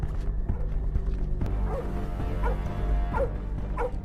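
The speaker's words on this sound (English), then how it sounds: "the police hounds suddenly start barking near the lake" Police hounds bark near a lake in a film scene, sharp repeated barks and yips at moderate distance over a low rumbling bed, several bursts spaced through the stretch.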